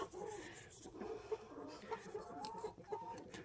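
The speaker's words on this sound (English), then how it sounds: "Remember, there's only 7 hens in here with Sonny" Several hens cluck and murmur steadily in a small backyard coop holding seven hens and a rooster, soft overlapping calls close by with no talking.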